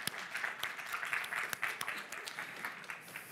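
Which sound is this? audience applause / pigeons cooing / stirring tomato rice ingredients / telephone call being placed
audience applause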